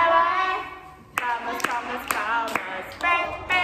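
Preschool children clap their hands during a school song, a few sharp scattered claps under singing voices.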